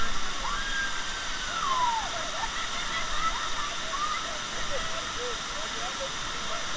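Navajo Falls, a waterfall at Havasupai, gives a steady, even rushing roar of falling water that fills the whole stretch without a break.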